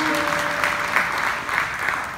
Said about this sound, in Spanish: Un aplauso a la esposa.